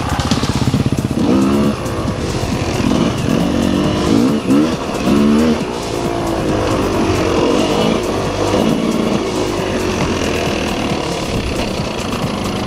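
Enduro motorcycles ride along a trail near Gelendzhik, engines revving and droning loudly and close throughout, with bursts of throttle and shifting pitch as the bikes climb and maneuver.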